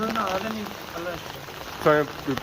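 Steady heavy rain hisses in the background in Dadyal, Azad Kashmir, while voices talk intermittently over it.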